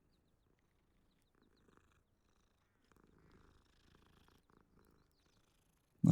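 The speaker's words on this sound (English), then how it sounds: "That lets you pet the cat." Cat purring in a Hogwarts Legacy game scene as the player pets it, a very faint, soft low rumble in near silence, ending with a sudden loud burst.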